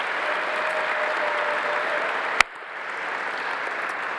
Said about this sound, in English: Let's have a big round of applause for these incredible young people.